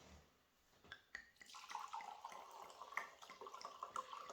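A drink is poured into a glass, a soft trickling, splashing stream that starts after a few faint clinks and continues steadily, close but quiet.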